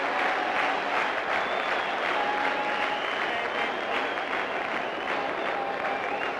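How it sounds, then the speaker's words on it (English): A cricket crowd at Gaddafi Stadium in Lahore, during the 1996 World Cup match between the Netherlands and the UAE, cheers and applauds after sixes, a broad, steady roar of clapping heard from a distance. "the crowd loves it at the Gaddafi Stadium"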